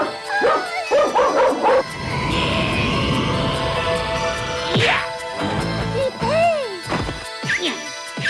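A dog in an animated cartoon barks and yelps in quick bursts amid crashing, thumping commotion, with a whimpering whine and further yips near the end.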